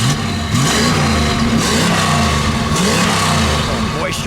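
Engine of a 1973 Chevrolet Chevelle Malibu Classic with a muffled exhaust revving up and down, loud and close, with several rising and falling sweeps over a steady rumble.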